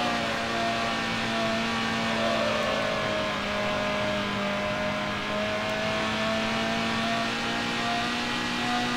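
Race car engine in the Need for Speed HP2 racing game, a steady loud drone with a sustained pitch that rises slightly as it revs, holding continuously without pauses and with no voices over it.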